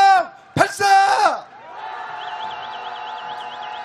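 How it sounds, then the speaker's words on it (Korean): Protest crowd at a street candlelight rally lets out a loud, sustained roaring cheer with whoops, then settles into a lower crowd murmur under a faint warbling sound. "그런 마음으로 함성 발사!"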